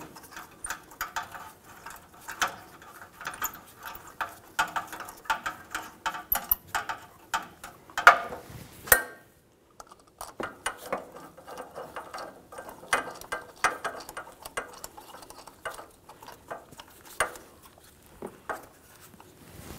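Ratchet wrench clicking in repeated bursts while exhaust manifold nuts are run onto a 2010-2014 Subaru Outback during catalytic converter and pipe replacement, close and fairly quiet, with a brief pause midway.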